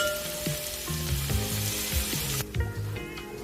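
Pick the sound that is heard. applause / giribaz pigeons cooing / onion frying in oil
onion frying in oil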